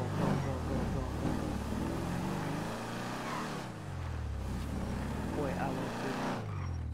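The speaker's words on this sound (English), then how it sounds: "This thing sounds amazing with the exhaust." A car engine and exhaust in GTA 5 Online rev and rise in pitch through several pulls, loud and close, with people talking over it.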